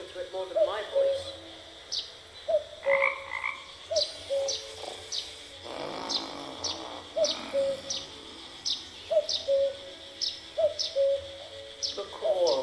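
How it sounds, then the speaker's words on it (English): Clicker frog toy croaking in the video game Night of the Rabbit, giving a steady run of short clicking croaks, about two a second, fairly close, amid forest bird song and background music, with a brief spoken passage partway through. "Maybe the clicker frog will appeal to it more than my voice."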